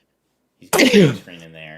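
One sharp, close sneeze bursts out after a brief silence, followed by a voice speaking.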